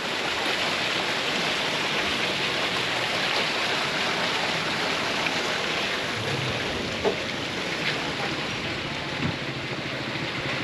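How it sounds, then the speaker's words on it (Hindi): Continuous loud rush of water falling from a pipe into a can, splashing steadily and unbroken throughout, with a few faint knocks underneath, in a Kashmir village. "वो देखो ऊपर पाइप में से कैन में पानी गिर रहा है"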